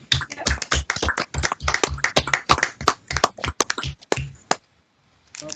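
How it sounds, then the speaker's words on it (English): Scattered clapping and tapping from participants in an online board meeting, uneven bursts of close individual claps over several seconds that stop abruptly into near silence. "Why don't we give Judith at least a virtual round of applause?"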